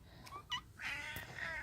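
Several cats meow and yowl in a drawn-out, wavering way, close by and fairly loud, with a short cry first and then a longer caterwaul, while being given a potato to eat.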